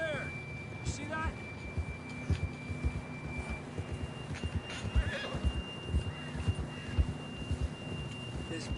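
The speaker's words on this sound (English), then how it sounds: "John was riding that horse when we left Blackwater." Neighing and clip-clopping hooves from a horse in a cowboy video game, with whinny calls and a steady hoof rhythm under game music and ambience; voices are present.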